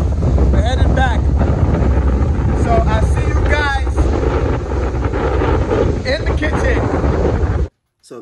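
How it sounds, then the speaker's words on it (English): Strong wind batters the microphone aboard a fishing boat heading back to shore, a constant loud roar with a voice and whistling sounds over it, cutting off abruptly at the end. "Man, the wind is terrible right now"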